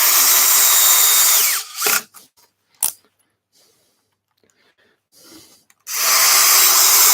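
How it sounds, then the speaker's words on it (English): A power drill whirs loudly, driving screws into a wood bowl blank for woodturning, in two bursts separated by a quiet stretch with a few soft clicks and handling noises. "So I'm going to use 4 screws."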